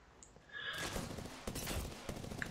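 Video game gunfire, a burst of rapid shots with sharp cracks fading in after a quiet start, fairly faint and without talk.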